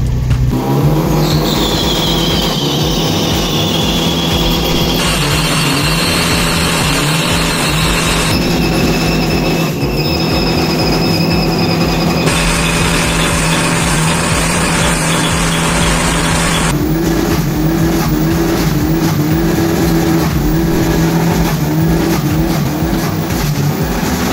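A loud turbocharged 1600 cc car engine revs hard in third gear and holds high during a burnout, with rising and falling whines and screeching tire noise throughout, no voices.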